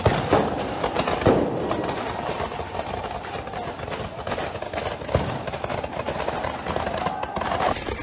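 Fireworks fired in rapid succession by protesters at a street protest in Georgia, a dense, continuous barrage of crackling bursts and pops that stays loud throughout.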